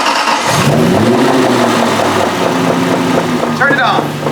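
Supercar engine cranks and fires up after an oil refill with nine quarts, settling into a loud, steady idle close by, with a brief voice near the end.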